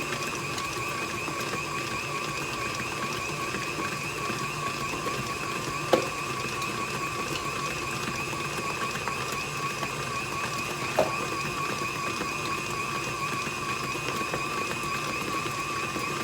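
A mixer beats royal icing at medium to high speed, giving a steady, continuous mechanical whir that holds the same level throughout, with two brief knocks along the way.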